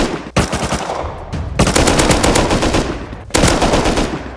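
LR rifle gunfire in the video game Rust, loud sustained automatic bursts with a brief pause between volleys, close and dominating with no speech.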